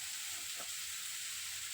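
Chilies and coconut fry in a pan with a soft, steady sizzle, low and close, with no talking.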